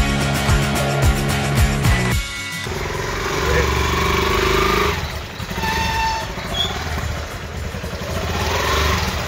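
A motorcycle is ridden across a dangerous bridge at Tarahara, its engine droning and clattering at mid distance for several seconds after a burst of music fades, with voices mixed in.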